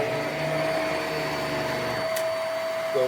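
A Hoover MAXLife Pro Pet Swivel bagless upright vacuum runs with a steady, close motor whine and airflow hum, then gives a brief burst and its low rumble drops away.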